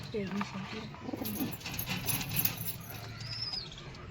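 Male homer pigeons coo in low, repeated murmurs close by, with occasional wing rustles and a soft background hum.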